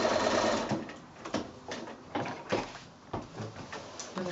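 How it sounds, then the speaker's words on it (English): A domestic sewing machine back-stitches to finish the binding on a quilt, running in short rhythmic bursts of rapid needle clatter with brief pauses, close and clear without speech. "Little back stitch to finish."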